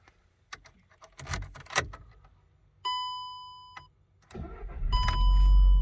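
A 2007 VW Golf GT starts on its original key: keys jingle, the dashboard chimes for about a second, then the engine cranks and catches into a loud, steady idle.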